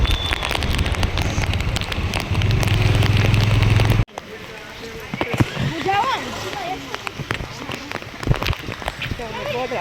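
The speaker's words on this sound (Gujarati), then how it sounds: "કેટલો વરસાદ આવે છે" Dense hiss of heavy rain falling at Bortalav, with water flooding everywhere, for a few seconds, then softer rain continuing beneath people talking nearby.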